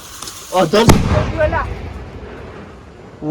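A sharp, loud firecracker bang bursts out close by during Diwali, with people's voices talking and calling out before and after it amid a noisy background.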